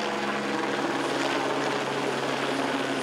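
A police helicopter thrums steadily overhead with a dense, even rotor and engine roar that stays loud and unbroken throughout.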